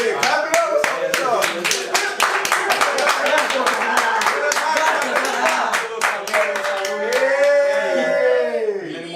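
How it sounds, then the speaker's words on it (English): Several people clap in a rapid, roughly even rhythm of sharp, close hand claps for about nine seconds, with voices talking and calling out underneath. "Clap it up."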